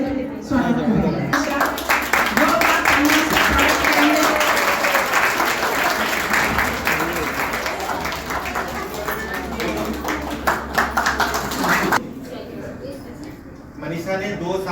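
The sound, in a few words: applause, audience clapping in welcome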